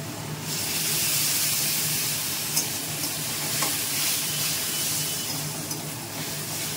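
A splash of water hits a hot pan of peanuts with chilli, bursting into a loud, steady hiss and sizzle that holds evenly, with a few faint clinks of stirring.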